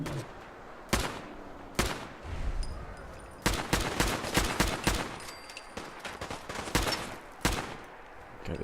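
Automatic weapons fire in the video game Fallout Wasteland, with sharp, loud shots arriving singly and in rapid clustered bursts over a steady background rumble.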